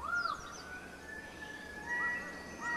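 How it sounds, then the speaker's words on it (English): Rainbow lorikeet in a Papua New Guinea forest, giving harsh, raspy screeching calls in a few bursts. The calls are fairly close and stand out over a steady hum of forest ambience. "a rainbow lorikeet,"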